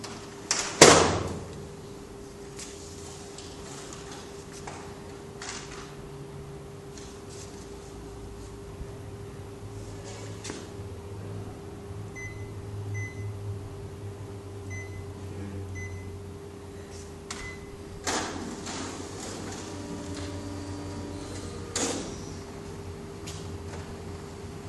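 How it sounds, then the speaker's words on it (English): A Toshiba 2051C copier feeds a torn paper page, opening with a sharp clunk and then settling into a low steady mechanical hum with faint clicks, whirs and small beeps. "this machine actually will process this document with ease"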